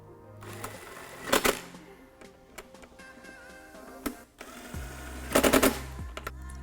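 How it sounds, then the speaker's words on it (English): A ratchet and 10mm socket tighten hardware on a cold air intake box during an install on a Jeep JL Wrangler, giving two rapid bursts of clicking separated by quieter handling noises. "Then we can get this tightened up with a 10mm socket."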